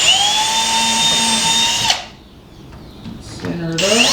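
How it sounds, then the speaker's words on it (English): A power drill pre-drills holes in trellis wood: a steady high whine runs for about two seconds and stops, then after a short pause the motor spins up again with a rising pitch. "Now you can continue with the pre-drill on the other ones."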